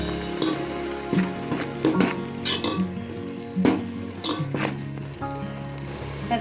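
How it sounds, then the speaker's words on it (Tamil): Tomatoes sauté in oil for mutton biryani with a continuous soft sizzle, broken by several sharp spoon clinks and scrapes against the pan, heard close up with no voices. "நல்லா ஆயில் திரிஞ்சு வர வரைக்கும் இந்த டொமேட்டோ நல்லா வதங்கட்டும்."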